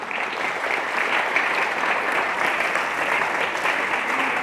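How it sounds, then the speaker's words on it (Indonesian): An audience at an Islamic religious talk bursts into dense, sustained applause that holds loud and steady throughout, with no speech on top. "Ini harus tepuk tangan ini."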